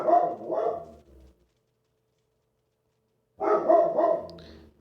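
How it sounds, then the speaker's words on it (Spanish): A pet dog barks indoors in two short bursts of a couple of barks each, loud and close, separated by a few seconds of silence. "Mi perro está ladrando porque le encanta ladrar cada vez que yo comienzo a grabar algo."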